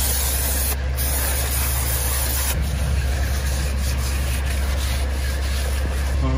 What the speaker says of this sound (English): We're gonna clean off the new rotor with a brake parts cleaner.